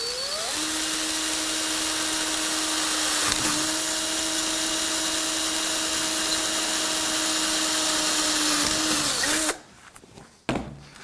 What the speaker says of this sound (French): La perceuse visseuse est réglée à la vitesse 1 et on va y aller tranquillement.